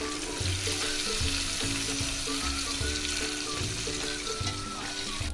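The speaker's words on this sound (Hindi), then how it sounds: "ये देखिए टमाटर भी हमारे फ्राई हो चुके हैं" Tomatoes fry in a pan for a stuffed brinjal (eggplant) dish, giving a steady, loud sizzle throughout with some rhythmic low thumps of stirring or handling. No one speaks.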